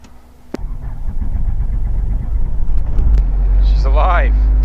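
A training helicopter's piston engine starting up, a rough throbbing rumble that builds steadily and stays loud, with a pilot's voice over the radio toward the end.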